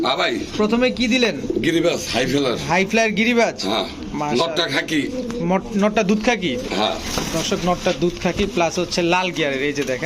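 Pigeons, including Bombay, King and Racer breeds, coo steadily and repeatedly close by, their throaty calls overlapping with people talking throughout.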